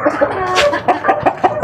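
A pet rooster named Putol and a hen being bred cluck close by, a string of short rhythmic clucks with one sharper call in the middle.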